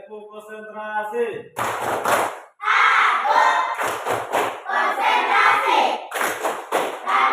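Classroom children loudly chant 'tepuk konsentrasi' together, their unison voices punctuated by sharp hand claps and thumps in an energetic rhythm after a brief sung lead-in.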